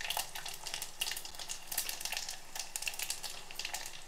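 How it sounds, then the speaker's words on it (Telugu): Garlic, mustard seeds and cumin crackle and sizzle in hot oil for a tempering, with dense rapid popping bursts that rise and fall close to the pan, no voices over it. "అదిగోండి, ఎల్లుల్లిపాయలు కొద్దిగా వేసాను, కొన్ని ఆవాలు వేస్తున్నాను, కొద్దిగా జీలకర్ర వేస్తున్నాను"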